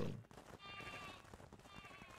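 Sheep bleating in the survival game Craftopia, two drawn-out wavering bleats in close succession that stand out clearly over a low game background.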